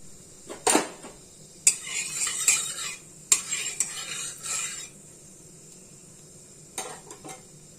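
Whole spices tempering in hot oil while a utensil scrapes and stirs the pan, giving a few bursts of clinking and sizzling followed by a quieter simmer, with no one talking.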